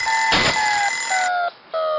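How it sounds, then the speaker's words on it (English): A household alarm clock rings loudly and continuously, a bright metallic tone that briefly cuts out and then resumes, with no voices. "The alarm clock,"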